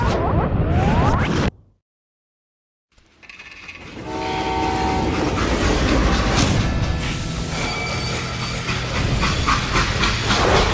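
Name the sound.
freight train, from video game Call of Juarez: Gunslinger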